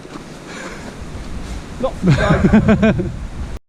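Strong wind gusts buffet the microphone on a high, exposed mountain walk in Mosedale, a steady rushing roar that swells louder while someone speaks over it.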